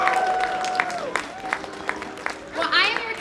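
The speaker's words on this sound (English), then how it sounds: "Give that a big round of applause." Crowd applause at the evening closing ceremony for Frederick County's 275th anniversary, a scattered patter of clapping running beneath a voice and tonal sound, swelling briefly near the end.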